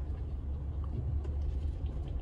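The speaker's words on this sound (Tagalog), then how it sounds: "Dami ng sasakyan." Road traffic hums and rumbles nearby outside a Starbucks on an early Wednesday morning, with a continuous, even drone of passing cars and no talk.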